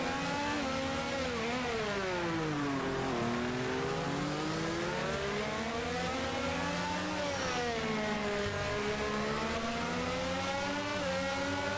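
F1 22 racing car engines at the Singapore GP blend into a continuous high whine as several cars rise and fall in pitch together through the corners. The sound is loud and steady throughout, with no pauses.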